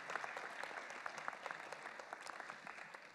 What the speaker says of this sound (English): Let's hear one final round of applause here for everybody who participated today.